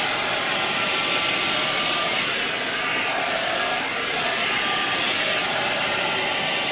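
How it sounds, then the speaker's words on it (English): A regular blow dryer running on high while drying hair, a loud, steady, airy whoosh that holds constant throughout with only slight shifts as it moves. "So you take your blow dryer, you want it on high"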